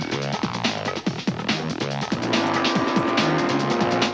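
Racing car engines rev and roar in the PC racing game eRacer, with pitch sweeping up and down through gear changes, then a sustained tire squeal as a car skids. Loud and close, no talking.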